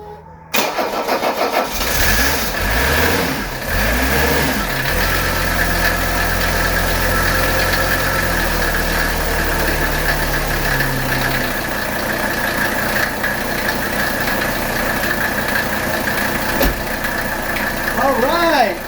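A 1979 Mercedes 300SD diesel engine cranks briefly, catches with a loud rough roar and settles into a steady, clattering idle that carries on close by. A voice is heard faintly now and then.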